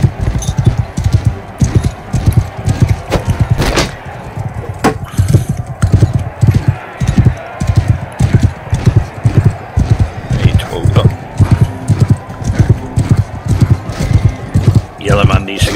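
Galloping horse hooves in Mount & Blade II: Bannerlord, a steady rapid clip-clop running throughout with battle noise and someone talking over it.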